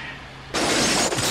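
A man is thrown through a jewelry store's glass display in a 1990 action film fight scene; a loud, sudden shatter bursts in after a quiet moment, followed by a sustained spray of breaking glass and tinkling shards.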